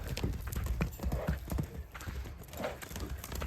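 A mare's hooves clip-clop in a steady, irregular patter on the ground, moderately near, with outdoor background noise and faint voices.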